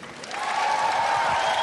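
An audience at a televised talent show final applauds steadily, a dense wash of clapping that swells in the first half-second and then holds at an even, fairly loud level.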